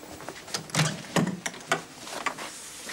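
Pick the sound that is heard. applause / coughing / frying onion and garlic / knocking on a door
knocking on a door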